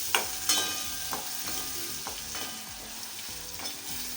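Tomato and green chili sautéing over low heat in a pan for vaghareli rotli, a steady close sizzle with repeated scraping stir strokes at an unhurried rhythm.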